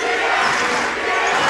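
Student and fan crowd at a high school basketball game, Sioux Falls Lincoln against Roosevelt, cheering as a loud, dense, continuous roar for a brief moment.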